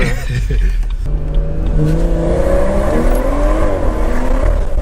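A BMW 340i accelerates hard from inside the cabin, its engine note climbing steadily in pitch through the gears, loud and close, with a brief rumble at the start before the rising roar takes over.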